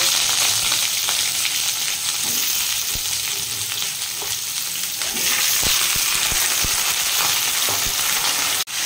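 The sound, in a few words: vegetables frying in oil in a kadai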